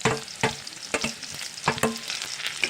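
Chopped garlic stirred into melting butter in a pan for butter garlic prawns, a close sizzle broken by several sharp spoon scrapes and clacks against the pan, uneven and busy with no voices.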